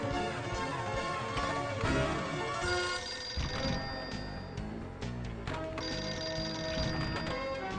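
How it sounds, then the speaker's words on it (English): The Pinball Arcade video game rings a telephone-style bell amid a continuous dense wash of electronic game chimes, tones and clicks that carries at a steady loudness throughout. "gonna be hearing that phone a lot too"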